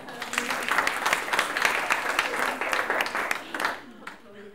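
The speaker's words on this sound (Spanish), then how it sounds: "Un aplauso." Audience applause during a marketing talk on e-commerce, a burst of clapping from a room of people that rises, holds, then tapers off near the end, with some voices mixed in.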